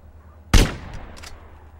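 A single sharp rifle shot cracks out in Grand Theft Auto San Andreas, then trails into a short echo, with a couple of fainter pops following.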